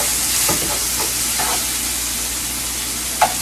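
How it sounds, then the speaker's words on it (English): Chopped onion sautéing over medium heat in a pan for a seafood alfredo bake, a steady broad sizzle with a few soft stirring scrapes and one brief sharp knock near the end. "I'm going to go ahead and put my chopped onion in here and let it saute for a little bit"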